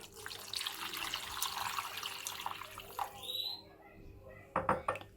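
Hot water mixed with tomato paste poured over stuffed peppers in a pot, a faint close splashing trickle for a few seconds, then a pause and a couple of small knocks.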